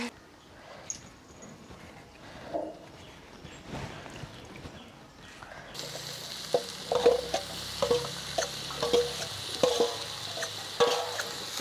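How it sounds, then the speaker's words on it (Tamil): Green chillies and garlic sautéing in a pan, with a steady sizzle and repeated scraping stirs of a utensil growing louder in the second half, some voices talking faintly at the start. "எல்லாத்தையும் சேர்த்து ஒன்றா வதக்கி விடுவேன்"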